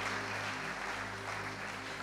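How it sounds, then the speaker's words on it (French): Dense, continuous applause from a church congregation acclaiming the Lord, a steady wash of many hands clapping at once, with no talking over it. "Tu peux acclamer très fort pour le Seigneur"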